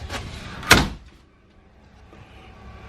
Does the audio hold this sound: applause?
no